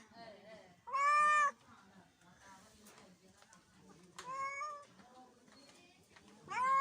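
A cat meows loudly and close by three times, spaced apart, with soft background chatter between the calls in a village setting.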